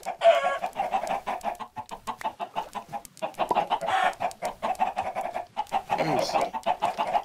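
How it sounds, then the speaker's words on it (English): Chickens clucking in the Crazy Craft Minecraft modpack, a steady run of short, close game clucks and squawks repeating throughout, with a voice speaking briefly over them. "God damn it, chickens."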